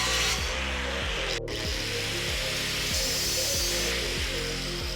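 Power tool cutting through metal parts during disassembly of a 1965 Mustang for an EFI conversion, a loud continuous grinding whir with rhythmic low pulses, close and uninterrupted.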